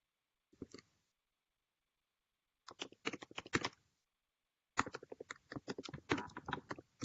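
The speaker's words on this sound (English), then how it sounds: "Actually, I hear someone typing." Quiet, close computer keyboard typing during an online webinar, in three bursts of rapid key clicks separated by silent pauses, the last burst longest and busiest.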